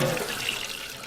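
Water runs from a tap into a sink in a glass tiny home cabin, a close, continuous splashing rush for the whole moment.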